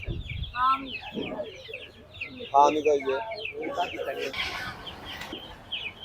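Chickens, many sick from extreme heat, cluck and squawk repeatedly at a poultry market, with people talking nearby over the birds.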